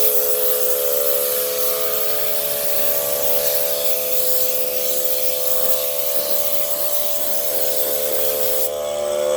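Steady pressurized hiss of an air injection system spraying cleaning product outdoors, continuous and close with a constant high wash of spray over a faint mechanical hum, uninterrupted throughout.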